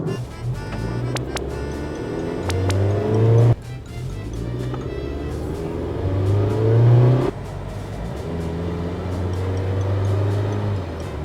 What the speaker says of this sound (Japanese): このスポーツモード7はアクセル踏んだ瞬間からいきなり加速します。